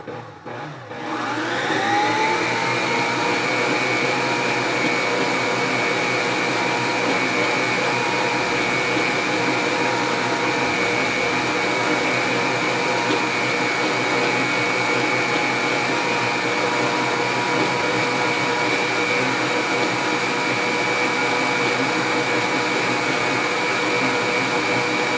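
An electric mixer whips cream into chantilly, its motor spinning up quickly and then holding a loud, steady whirring hum with no pauses.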